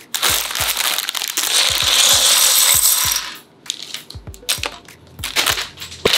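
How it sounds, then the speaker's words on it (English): LEGO bricks are handled while building: hard plastic clicks, rattles and taps come in quick irregular bursts close by, with a scratchy rummaging wash early on. "This is like LEGO ASMR."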